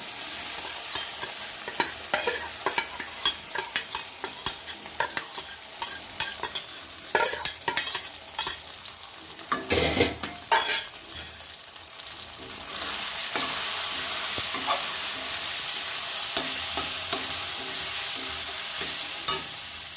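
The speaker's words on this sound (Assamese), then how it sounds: "এতিয়া মই এই ডিমৰ সৈতে ফেটি লোৱা চয়াবিনখিনি ভাজি ল'ম।" Soybeans coated in beaten egg fry in a pan while a spatula stirs them, producing rapid repeated scrapes and taps over a constant oily sizzle that grows louder and denser in the second half.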